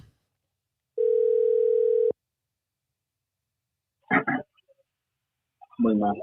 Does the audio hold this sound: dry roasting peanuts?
no